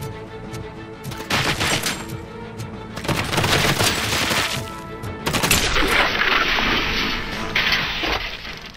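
Gunfire in a Robocop video game campaign: repeated bursts of automatic shots and impacts, loud and dense, with crashes and booms layered throughout and no talk.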